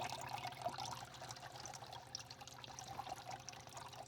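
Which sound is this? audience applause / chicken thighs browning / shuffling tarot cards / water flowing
water flowing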